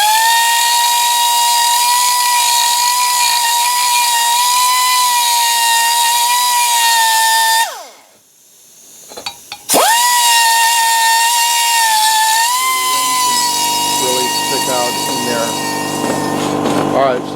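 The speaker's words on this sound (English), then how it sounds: "we're going to use just a little ball hone or ball die grinder here, and we'll go around the tops and the bottoms of" Steady high-pitched whine of a ball die grinder chamfering the cylinder ports of a Mercury 225 outboard block, loud and continuous, dropping out briefly then resuming with a shifting pitch.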